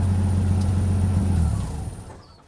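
An old inline-six truck engine idles with a steady low hum, close by, then fades away toward the end.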